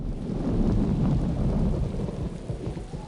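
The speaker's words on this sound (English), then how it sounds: "Putting on Nickelodeon 3D Movie Maker environment rain sound effect to go to sleep at night." Steady rain from the Nickelodeon 3D Movie Maker environment sound effect hisses continuously, with a low rumbling thunder-like roll underneath, loud and even throughout.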